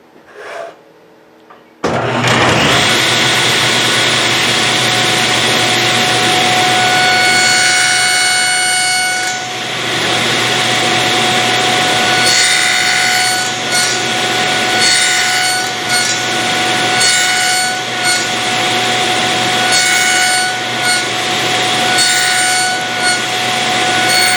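A table saw cuts wooden tenons in a home woodworking shop, its blade whining loud and steady after a brief start, with the pitch dipping and recovering repeatedly as the wood feeds through.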